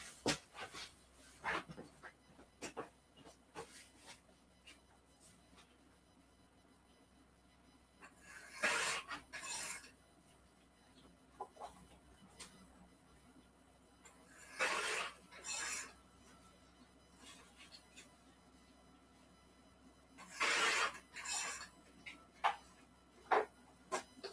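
A photo print is trimmed by hand, giving a few separate bursts of scraping, rasping cuts set apart by quiet stretches with small handling clicks between them.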